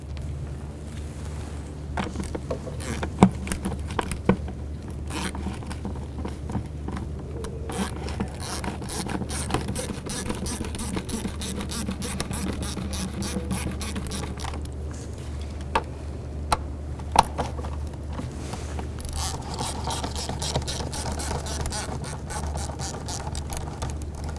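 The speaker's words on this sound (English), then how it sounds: "Using an 8 millimeter socket, we're going to go ahead and loosen this hose clamp here and this one right here." Ratchet with an 8 mm socket loosening hose clamps on a 2004-2009 Dodge Durango, giving a steady close run of fine clicking and scraping over a low hum, with no talking.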